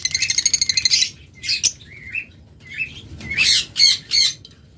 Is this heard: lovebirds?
yes